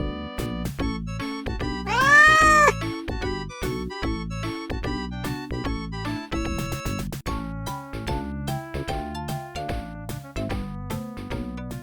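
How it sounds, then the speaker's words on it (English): A cat gives one rising and falling meow, loud and close, set against steady background music that plays throughout. "So the meowing develops into a second language to communicate to people."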